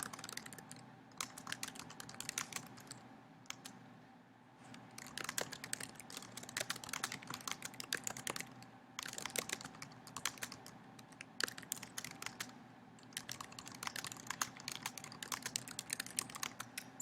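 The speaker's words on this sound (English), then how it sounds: "Once my editing tools have shown up, I can begin typing my message." A computer keyboard being typed on to write a message, steady bursts of quick clicking keystrokes with brief pauses between runs, close and clear with no talking.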